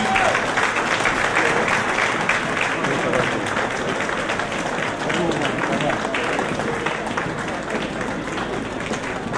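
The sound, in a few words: audience applauding the arriving delegation at a gala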